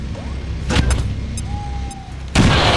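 A frag grenade explodes in the XCOM 2 video game, a sudden loud broadband blast near the end that follows scattered clicks, brief bursts and a thin whistling tone over a low rumble.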